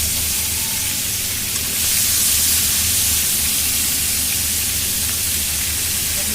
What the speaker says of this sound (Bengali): মাছগুলো এখন ভেজে নিতেছি। সব মাছগুলো ভাজবো,